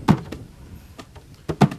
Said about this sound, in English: Five fingers coming down at the same time.